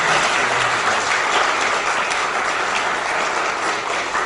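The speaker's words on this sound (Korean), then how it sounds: "우리 한번 힘차게 한번 박수 한번" A church congregation gives a long, steady round of applause, dense clapping filling the space at an even level throughout with no pause.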